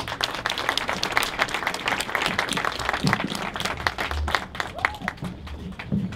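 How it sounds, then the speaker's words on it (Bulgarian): Audience applause at a Bulgarian evening event as a professor is invited to the stage, steady dense clapping filling the room for several seconds with some crowd murmur mixed in. "Аплодисменти."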